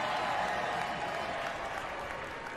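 Crowd noise at a women's soccer match between the USA and Brazil, a broad, steady roar of cheering and clapping filling the stadium, loud and continuous throughout.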